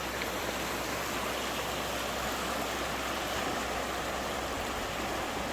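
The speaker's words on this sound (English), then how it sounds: "I'd say this is Rattlesnake Creek." Rattlesnake Creek flows with a steady, broad rushing hiss that holds unbroken for several seconds. No voices break in.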